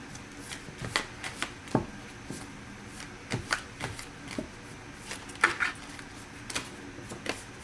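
Oracle cards are shuffled by hand close up, a steady run of soft papery riffles and taps repeating at a quick, uneven rhythm with no talking.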